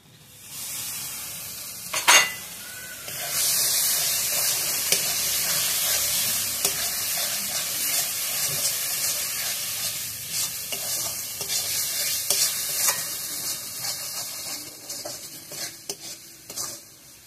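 Chopped tomato frying in a pan for a potato and egg curry with cashew and poppy seed, a steady close sizzle with repeated scraping stirs and occasional utensil clinks against the pan, no talk.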